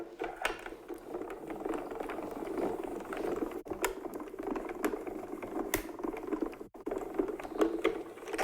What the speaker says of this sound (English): I'm just going to pop this onto my cutting plate and we'll run this through our machine.